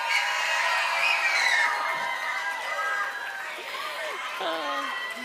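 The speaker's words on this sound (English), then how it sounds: "if reading comprehension gets you most pumped up, let's hear you cheer." An awards ceremony audience of children cheering and whooping loudly, a sustained mass of high shouts and screams from a crowd that tapers slightly but stays energetic throughout.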